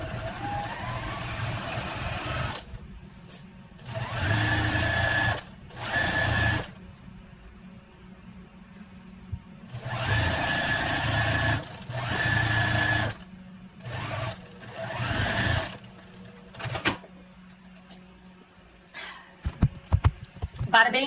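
A sewing machine stitches a pillowcase seam in several bursts of steady whirring, separated by short pauses, with a person talking in between.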